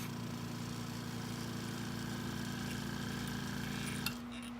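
A Whisper airbrush compressor opened all the way and blowing off air, a steady motor hum with hiss holding evenly, then cutting off near the end with a small click.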